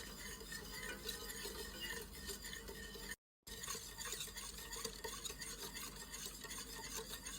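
A spoon stirring a mixture in a pot continuously, scraping and swishing close up, with a faint sizzle and one brief dropout midway.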